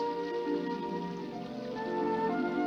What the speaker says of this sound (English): Soon, the autumn rain turned to winter snow.